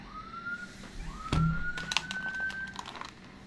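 A siren-like alarm tone rising and holding a steady wail, fairly faint and distant, with a sharp knock and some clattering noises over it partway through.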